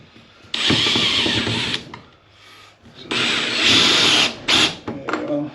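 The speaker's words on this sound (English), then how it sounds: "I use those screws for my backings when I screw the backings to the metal." A power drill drives screws through a backing into the metal body of a camper van while fitting sliding windows, with two long, loud, steady whirring bursts and a few shorter bursts near the end.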